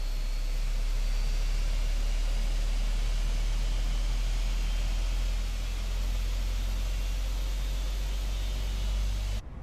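A jet airliner engine spools up in Microsoft Flight Simulator, a steady, loud broadband roar and hiss that holds evenly throughout before cutting off abruptly at the end.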